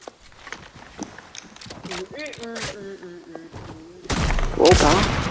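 Sniper-style gunfire in Fortnite: scattered clicks, footsteps and talking give way to a loud, sustained burst of shots near the end.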